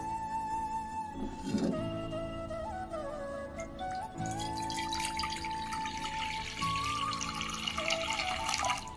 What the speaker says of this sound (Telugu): ఇప్పుడు మనము గిన్నెలోకి వాటర్ పోసుకుందాం